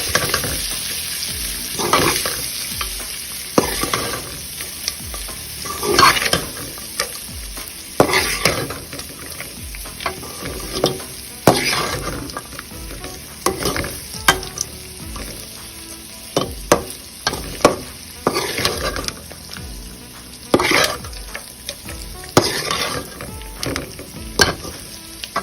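Cooked rice with salt is stirred in a pan for lemon rice, with steady frying sizzle beneath repeated scraping and clacking of a spoon in an uneven rhythm, close and fairly loud, no talking.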